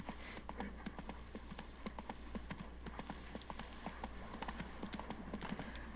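Horse hooves clip-clopping in a steady running rhythm in The Witcher 3: Blood and Wine, close and continuous over a low constant game hum.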